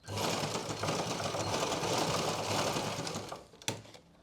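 A sewing machine stitches back over a pant waistband to close the gap around the elastic, a close, fast, steady whirring run that stops abruptly near the end with a single sharp click.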